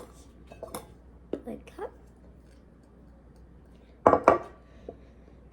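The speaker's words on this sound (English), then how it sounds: "1 cup of flour into this bowl." Flour being measured by the cup into a bowl for pancake batter, a few soft scrapes and light clinks of the measuring cup against the bowl, with a brief louder knock near the end; a voice speaks briefly.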